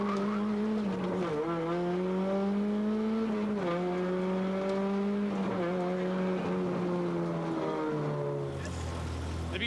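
A Mazda 323 GTX rally car at the 1996 Rallye Charlevoix works through a hairpin, its engine revving up and dropping repeatedly in a rhythmic pattern, then settling into a low rumble.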